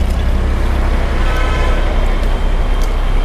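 A used car for sale in Ranchi idles with its engine running, giving a steady, loud, close exhaust rumble with no talk over it.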